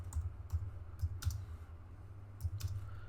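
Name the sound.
typing on a computer keyboard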